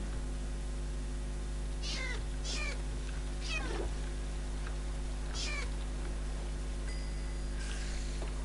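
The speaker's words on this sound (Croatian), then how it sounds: "Evo mačka." A cat in the game Minecraft meows several times, four to five short rising-falling cries spread over a few seconds against a steady low hum, fairly faint and with no one talking over them.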